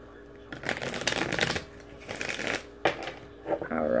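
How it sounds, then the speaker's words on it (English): Crisp riffling and fluttering of tarot cards being shuffled in several bursts, close up, with brief pauses between passes. "Okay, one more shuffle here."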